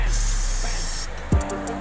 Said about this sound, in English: Spray some of that up in there.